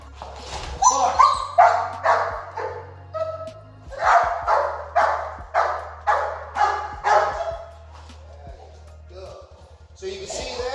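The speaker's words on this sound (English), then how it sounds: "He's barking naturally for the ball, which is good." A dog held back and tied to a post barks for a ball, about a dozen sharp, frustrated barks in quick bursts with some whining yips, close and loud, over a low steady hum.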